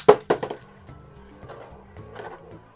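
A Beyblade Burst spinning top is launched from its launcher: two sharp snapping clicks, then a faint, steady whirring hum as the top keeps spinning nearby.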